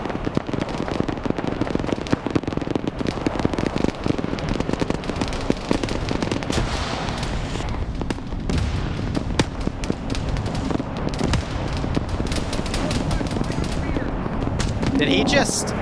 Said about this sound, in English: Something's taking GMG fire.